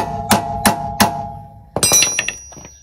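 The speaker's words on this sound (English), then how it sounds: "Hammer it on just a tad, make sure it's all good." Three sharp, evenly spaced hammer strikes ring out on the front wheel hub of a Dodge Ram 1500 during a front-end rebuild, followed by a quicker cluster of lighter metallic taps and clinks, close and loud with no talking.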